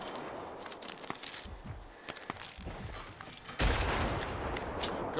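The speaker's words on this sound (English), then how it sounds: "Forgot they have the shotguns here." Shotguns fire in the video game Generation Zero, a run of sharp, loud game gunshots mixed with mechanical clicks and reloading clatter, then a heavier burst of noise near the end.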